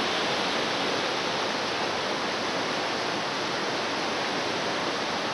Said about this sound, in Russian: Камни, через которые пробивается эта удивительная река.